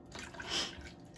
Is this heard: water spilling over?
yes